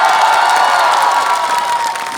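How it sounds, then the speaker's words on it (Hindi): An audience at a Hindi comedy poetry show applauds and cheers, a dense, loud burst of clapping that fades slightly toward the end. "बात अच्छी हो तो मुनव्वर राणा जी तक ताली पहुंचे।"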